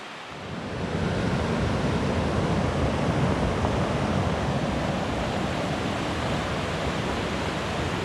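Deep Creek in the Great Smoky Mountains rushes steadily along a January hiking trail, a broad, constant wash of flowing water that stays loud and even throughout, with no voices.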